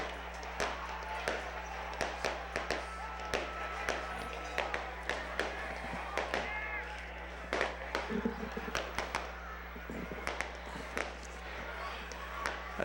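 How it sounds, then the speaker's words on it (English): A fireworks display at a high school football game, heard as a steady run of sharp pops and thuds at a distance, loud enough to drown out the commentators, over a constant low hum. "we'll just wait until the fireworks end. You can enjoy the fireworks display."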